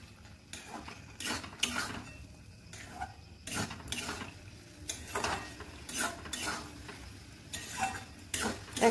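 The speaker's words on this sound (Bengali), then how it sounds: "এবার এর মধ্যে ভেজে রাখা পনিরগুলো দিয়ে দিতে হবে, দিয়ে ভালো করে মিশিয়ে নিতে হবে" A spoon stirs fried paneer into palak in a cooking pan, giving repeated clinking metal scrapes in an uneven rhythm, close and moderately loud with a faint sizzle beneath and no talk.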